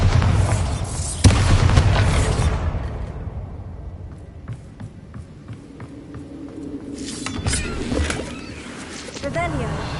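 A Bombarda explosion spell in the Hogwarts Legacy video game goes off as a loud, deep boom that rolls away over a couple of seconds, followed by crackling debris, a scattering of small impacts and a later swelling magical whoosh.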